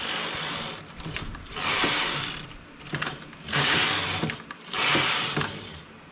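A hand-operated knitting machine knits rows, the carriage sliding back and forth in four rasping, clattering passes with short pauses between. Each pass is close and moderately quiet, with no speech.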